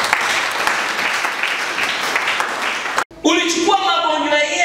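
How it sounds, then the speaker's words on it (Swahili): A church congregation at an Easter service claps loudly and steadily for about three seconds. The clapping cuts off sharply and a voice follows. "Mpe Yesu makofi tena."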